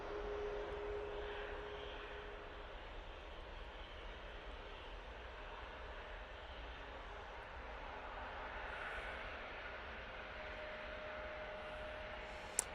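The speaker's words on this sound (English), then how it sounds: "Off to Rome, we go with the 737-800." A Boeing 737-800 jet departs Manchester Airport, its engines producing a distant, steady roar that holds throughout, fairly faint, with a small click near the end.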